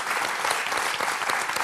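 A studio audience at a French talk show breaks into steady, dense applause, a full wash of clapping that holds at an even level for the whole brief stretch.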